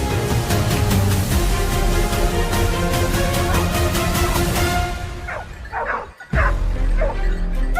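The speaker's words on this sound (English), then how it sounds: "the sound of barking from deep within the forest signaled that the target was charging right toward him" Several dogs barking and yipping repeatedly in a forest during a wild boar hunt on a farm, dense overlapping barks loud and close, with a brief dip near the end before the barking resumes.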